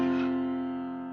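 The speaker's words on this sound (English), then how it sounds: "And a minor sound would sound something like this." A single minor chord rings out and slowly fades, its sustained tones close and clear, with no talking.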